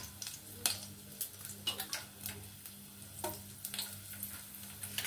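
Garlic and dried red chillies crackle and pop in hot oil for a dal tadka, a faint, close sizzle with scattered sharp ticks and light stirring.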